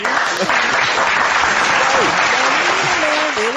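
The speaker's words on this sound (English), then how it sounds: "Round of a fucking applause." Loud, dense applause fills the whole stretch, with a voice calling out over the clapping.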